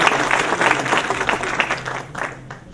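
Audience applause at a concert by a Ukrainian chamber orchestra in the Teatro Luciani, Acquaviva delle Fonti: dense, steady clapping from a full hall that fades somewhat toward the end.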